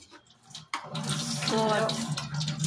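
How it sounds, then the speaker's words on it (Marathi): A little water poured into a pan of pav bhaji masala, a steady splashing stream that starts abruptly and runs continuously to the end, fairly close, with a voice briefly at the start. "मी याच्यामध्ये पाणी ओतलंय थोडंसं।"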